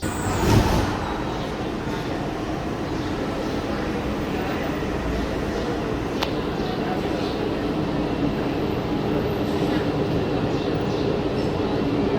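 Steady rumble and rolling hum of a Walt Disney World monorail train at Magic Kingdom, heard from inside the car, continuous and fairly loud throughout with a brief louder swell at the start.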